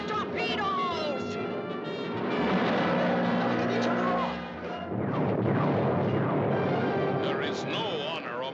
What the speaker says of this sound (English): Fire, tactile torpedoes!